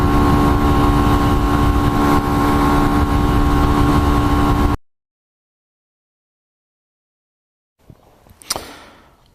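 A Hyosung Aquila 125 motorcycle engine drones loudly and steadily while riding at speed for several seconds, then cuts to silence before a brief burst of sharp, rustling noise near the end.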